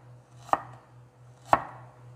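A knife cuts thin slices of fresh ginger on a cutting board, two crisp separate chops about a second apart against a quiet low hum.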